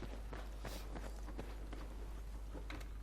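Running footsteps in Battlefield 4 patter quickly and steadily beneath a constant background roar, each step faint and evenly spaced.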